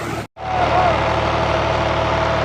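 Tractor engine driving a solar tube well bore pump, a steady close rumbling drone that runs continuously after a brief dropout near the start.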